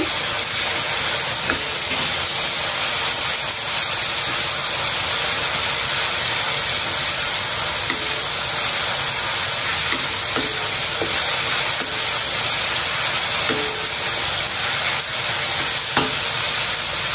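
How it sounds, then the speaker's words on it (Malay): Sliced shallots fry for a wedding-feast dish, heard as a loud, constant sizzle and hiss of hot oil with steam, broken by occasional scraping and clinks of stirring in the pan. "yang ini adalah bawang merah yang saya hiris tadi. Saya akan masukkan."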